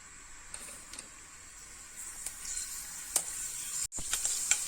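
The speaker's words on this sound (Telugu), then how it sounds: "ఇందులో ముందుగా ఒక 1/2 టీ స్పూన్ మెంతులు వేస్తున్నాను." Half a teaspoon of fenugreek seeds sizzling in about two spoons of hot oil for a leafy vegetable dhal: a steady close hiss with scattered small pops and crackles, one brief gap near the end, and no talking.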